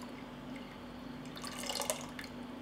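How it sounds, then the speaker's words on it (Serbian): Fresh lemon juice dripping into a batch of juice, faint background hum at first, then a quick cluster of small splashy drips and patters toward the end. "Dodat ću sok od 1 limuna."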